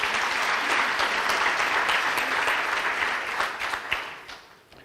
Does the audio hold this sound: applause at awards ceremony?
yes